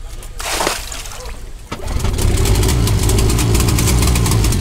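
A brand-new sailboat engine idles steadily with a low, continuous rumble while the boat is out of the water, preceded by a brief splash or clatter near the start.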